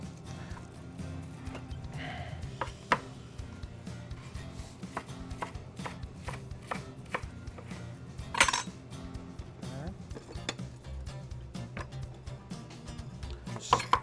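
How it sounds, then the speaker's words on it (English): Knife chopping panko-coated shrimp into strips on a board, a steady run of close, irregular cutting taps over a low hum of background noise, with one sharper clink near the middle. "we're gonna be using some panko shrimp. Gonna cut it on strips."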